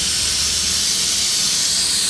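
A loud, steady hiss of air escaping from a tire, close and continuous for the whole moment.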